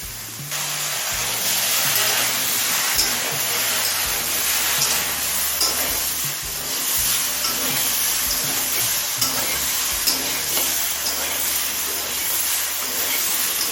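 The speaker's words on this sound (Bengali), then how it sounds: "সিম বেগুন দিয়ে আরও তিন চার মিনিট ভেজে নিলাম" Drumsticks, pointed gourd, flat beans and eggplant fry in a pan with a loud, steady sizzle and occasional stirring scrapes that continue throughout, close by, with a low tonal hum underneath.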